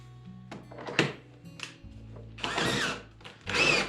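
A power drill drives an apple grinder while cider is being made, giving short bursts of whirring and grinding with clunks and knocks between them, close and fairly quiet.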